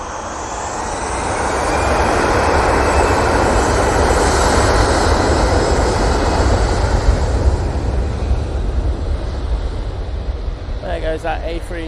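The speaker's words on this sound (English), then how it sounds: "There goes that A321 CEO" An Airbus A321ceo at Manchester Airport roars past with a loud, steady jet engine rumble that swells and holds, with a voice speaking briefly near the end.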